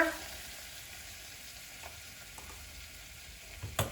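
White flour stirred into butter in a pan over medium heat for cabbage spaghetti, a steady soft sizzle throughout with light scraping near the end.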